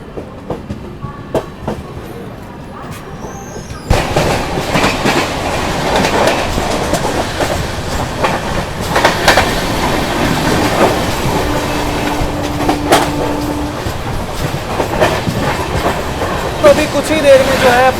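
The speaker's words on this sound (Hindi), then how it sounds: "अपनी CR राजधानी एक्सप्रेस स्किप कर रही है थाने रेलवे" The CR Rajdhani Express thunders through Thane railway station at speed, a loud, sustained roar of rolling wheels and rhythmic clickety-clack, rising sharply after a quieter opening and holding to the end, with a brief tonal note partway through.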